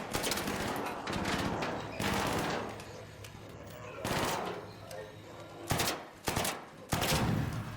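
Repeated bursts of automatic gunfire in Arc Raiders as a player shoots down a turret, loud sustained volleys at first, then sharper separate bursts near the end.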